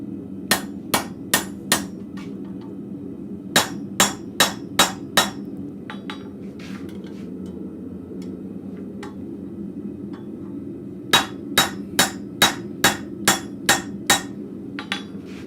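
Blacksmith hammer blows on hot metal over an anvil in a forge shop, ringing out in three quick bursts of about five strikes each, separated by quieter stretches with a steady background hum.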